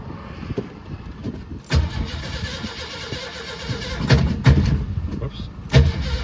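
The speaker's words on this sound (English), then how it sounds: "All right, here's the cold start." A 1986 Ford F150 engine cranking on a cold start, a series of uneven, labored turnover bursts and thumps that struggle repeatedly without settling into a clean idle, close by.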